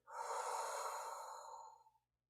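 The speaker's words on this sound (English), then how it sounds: "Then you're going to breathe out, which is from your mouth" One long, deep exhale through the mouth during a relaxation breathing exercise, close and soft, with an airy rush that fades out after about two seconds.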